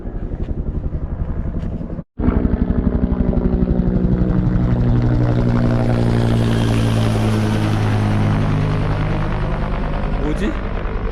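A helicopter circling over a canyon trail near Three Sisters Falls in San Diego gives a loud, steady, rapid rotor thump that drowns out everything else, with a momentary dropout early on.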